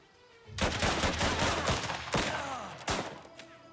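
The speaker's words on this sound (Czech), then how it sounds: "Střílí po mně." Bursts of gunfire in the video game Last Train Home, with several loud broadband volleys of shots, the first long and sustained, then two sharper bursts later, close and dominant with no talking.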